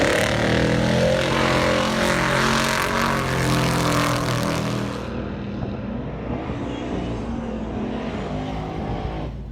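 Drag racing car at an American drag strip roaring at full throttle, a loud sustained engine drone with harmonic bands that shifts midway as the car pulls away and the sound thins and recedes.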